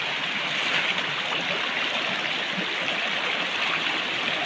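A mountain stream rushing over rocks, a steady close hiss of flowing water that stays even and loud throughout, with no voices.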